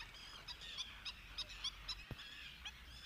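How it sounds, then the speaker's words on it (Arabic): Glossy ibis giving a run of short, rough, goose-like calls at an even pace, near and fairly loud over steady outdoor background noise, with a brief thump partway through. "هناك طائر أبو منجل اللامع"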